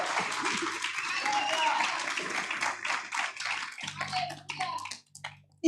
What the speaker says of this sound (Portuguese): pode dar salve de palmas a Deus